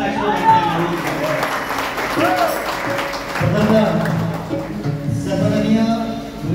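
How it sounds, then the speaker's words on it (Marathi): Audience applause at a Guru Purnima bhajan concert of a Bhairavi performance, steady clapping mixed with a voice and sustained musical tones throughout, fairly loud and continuous. "एकदा जोरदार टाळ्यांचा आशीर्वाद"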